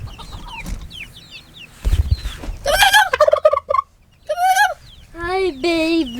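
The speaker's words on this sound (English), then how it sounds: "the little chickies got out" Young backyard chicks loose from a hoop coop peep and chirp up close in quick high calls, with louder fowl-like calls and a person's voice mixed in.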